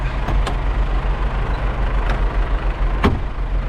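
A semi-truck tractor unit idles and rumbles nearby after its trailer is uncoupled, with a steady heavy diesel drone and a few sharp hissing air bursts from the suspension or brakes.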